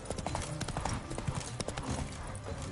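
Roach, the horse in The Witcher 3, gallops in a fast, rhythmic run of hoofbeats, loud and close throughout a brief burst amid game ambience.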